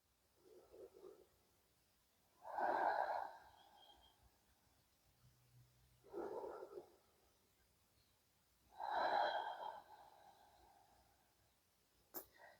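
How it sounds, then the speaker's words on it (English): Slow, deep nasal breaths during a restorative yoga session, with three long soft airy breath swells spaced several seconds apart, close and quiet, and a faint click at the end. "begin to deepen your inhale and lengthen your exhale, both through the nose"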